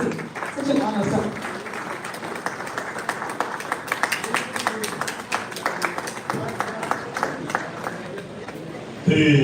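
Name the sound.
audience applause welcoming keynote speaker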